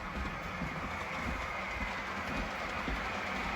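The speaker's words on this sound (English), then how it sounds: "And here comes our train. And there goes our train." A model train runs on its track, powered by a 12-volt supply, giving a steady, continuous rumble and whir at moderate level throughout with no talking.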